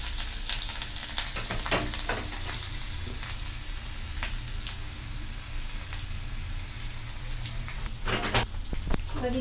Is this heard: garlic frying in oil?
yes